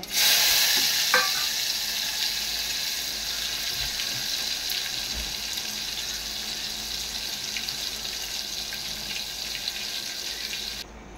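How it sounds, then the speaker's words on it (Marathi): Mustard seeds, cumin, fenugreek seeds and garlic sizzling in hot oil for a Marathi kadhi, a loud, steady hissing crackle with a brief clink near the start, cutting off abruptly at the end. "राई टाकली, जिरा टाकले, थोडे मेथी दाणे टाकले. लसूण टाकले."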